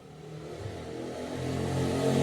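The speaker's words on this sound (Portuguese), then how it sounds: "Na sua região passa dessas motos sem escapamento ou que o motoqueiro tira o miolo do escapamento para ela fazer mais barulho?" A motorcycle without a muffler approaches, its mid-pitched engine rising steadily and growing louder and nearer across the stretch, heard alone with no voices.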